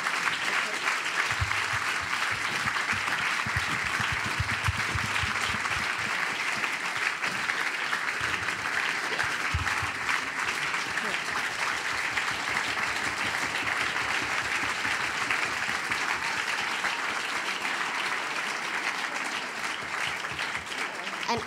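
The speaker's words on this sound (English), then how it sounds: "Everybody come on, clap. Applause." A crowd after a book talk keeps up long, sustained applause, a dense even roar of clapping with scattered voices and low murmurs underneath early on, steady in level throughout.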